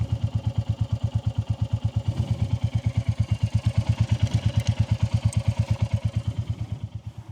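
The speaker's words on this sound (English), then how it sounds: "let the engine run for 15 minutes so that everything can recalibrate" A Royal Enfield Classic 350 single-cylinder engine, fitted with a FuelX Lite and DNA filter, idles in a long warm-up with a steady, even thumping pulse. It stays close and moderately loud, then fades slightly at the end.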